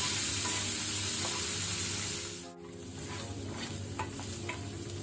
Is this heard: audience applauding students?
no